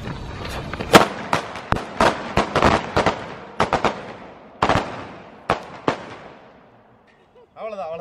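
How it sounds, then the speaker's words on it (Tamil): A rapid string of sharp firecracker bangs during a village Diwali celebration, loud and uneven in rhythm, tapering off into silence before a brief voice at the end. "இப்போ வைக்க போகிற பட்டாசு என்னோட ஃபேவரெட்டு"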